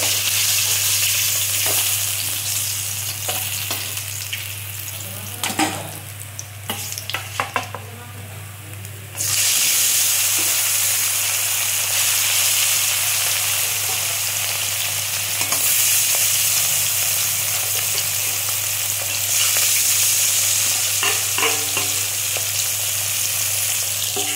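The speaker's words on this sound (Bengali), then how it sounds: "এই মাছটা আমি একে একে সব ভেজে তুলে নেই" Bhetki fish frying in hot oil gives a loud, steady sizzle that runs unbroken throughout, with a few brief utensil clinks and scrapes partway through.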